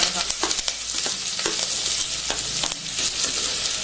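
Onion, curry leaves and dried red chillies frying in hot oil, a loud continuous crackling sizzle with repeated scraping strokes of a spoon stirring close by, no voices.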